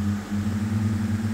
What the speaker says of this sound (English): Oh, the engine sounds are pretty pathetic